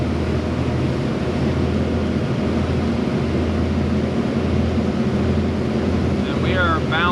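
A 1999 Formula 280 Sun Sport boat with a newly swapped engine drones steadily as it eases up onto plane, loud and continuous under heavy wind rush.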